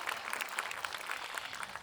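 Concert audience at a KST Nesebar dance show applauds, a quiet, distant patter of many hands clapping evenly throughout with no voices.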